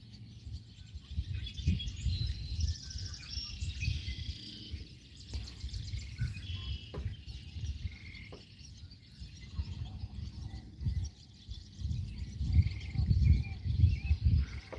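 Sandhill cranes calling outdoors at night, their rolling, rattling cries repeating at mid distance beneath people talking and a steady chorus of insects.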